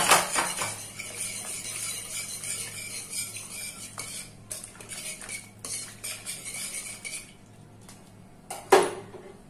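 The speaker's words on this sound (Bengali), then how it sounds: "এবার এটাকে ভালো করে নেড়ে দেব।" Ghee and half a cup of water stirred in a cooking pot for hilsa korma, a spoon clinking and scraping against the metal with steady stirring and a sharper knock near the end; no voices.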